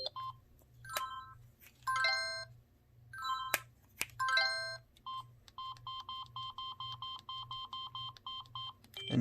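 Flip tone number 3 on a T-Mobile Samsung SGH-T309 flip phone: a few short electronic chime phrases, then a long run of rapid, evenly repeated beeps, close and clear over a low hum.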